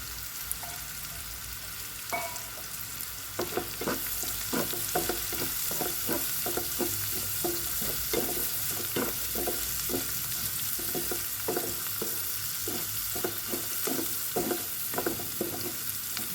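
Chopped garlic frying in a pan for fish moly, a continuous close sizzle with repeated rhythmic stirring scrapes through most of the stretch, no talk.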